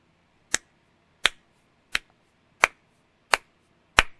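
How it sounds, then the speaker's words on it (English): Six sharp, evenly spaced claps about two-thirds of a second apart, each a crisp isolated crack with silence between, a deliberate slow clap close to the listener. "slow clap for you."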